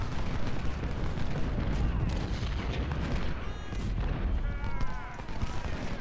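Artillery and musket fire in the Ultimate General: Civil War battle game, a dense, continuous roar of booming cannon shots and crackling volleys over a full battlefield din, with faint whistling tones drifting through.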